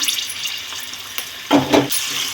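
Green chillies, onion and coriander frying in hot oil in a pan, a loud close sizzle with a brief surge of crackling partway through as the pieces are stirred.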